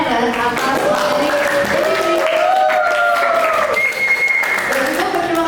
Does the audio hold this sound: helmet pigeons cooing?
no